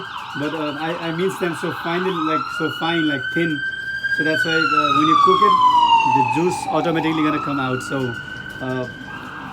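A police siren wails outside an apartment, its tone sweeping up and down loudly over the whole stretch while a person talks through it about preparing food.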